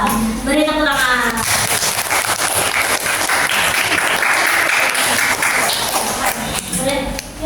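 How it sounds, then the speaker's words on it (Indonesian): A classroom group applauds, with dense clapping filling most of the stretch, while voices speak briefly at the start and again near the end. "Beri tepuk tangan."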